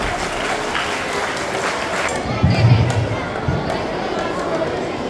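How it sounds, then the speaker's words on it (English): A school audience at a Teachers' Day celebration claps to welcome a teacher forward, a steady, dense wash of applause from a crowd with some chatter mixed in, holding level throughout. "Let's welcome her with a big round of applause"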